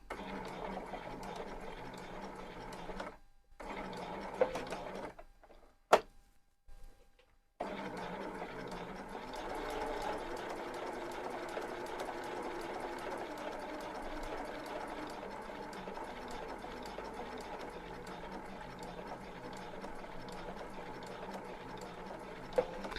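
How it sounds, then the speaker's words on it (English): A sewing machine stitching around a flat collar whirs in a steady, even run, close and clear, after a few short starts and pauses at the beginning. "I'm going to stitch around this collar now"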